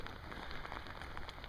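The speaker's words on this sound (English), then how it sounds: "There's just puddles and constant dribbly rain." Steady light rain patters continuously on the ground and puddles during a wet walk in the Scottish Highlands, a dense, even hiss with soft drops throughout and no voices.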